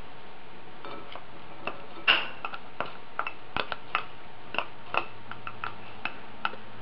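Meatloaf ingredients being mixed in a bowl with minced celery and white onion, a utensil clinking irregularly against the bowl in sharp ticks and one louder knock, with quiet gaps between.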